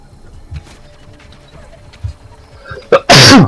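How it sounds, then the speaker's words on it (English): A single loud, sharp sneeze bursts out near the end after a stretch of quiet room noise, close and abrupt. "Should not have to sneeze when it's so sunny outside"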